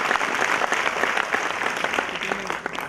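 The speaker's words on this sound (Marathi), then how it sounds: "सर्वांसाठी एकदा टाळ्या होऊन जाऊ" Dense crowd applause fills a Marathi speech event for MPSC toppers, a steady wash of many hands clapping at close range with a faint voice briefly audible near the end.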